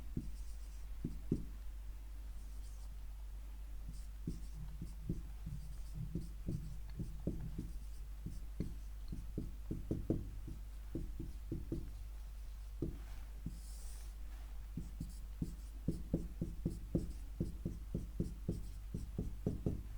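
Marker or chalk strokes on a board during a physics lecture, a quiet series of short scratchy taps and strokes in irregular bursts over a low steady hum, with no talking.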